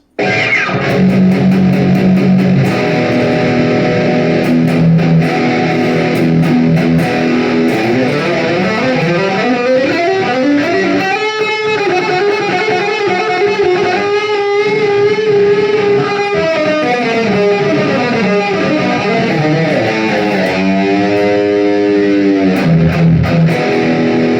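A Schecter Damien Platinum 6 electric guitar plays loud distorted metal tones, with sustained chords and fast arpeggiated riffs through heavy overdrive, played alone without talk.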